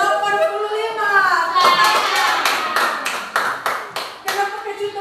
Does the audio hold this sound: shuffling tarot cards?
no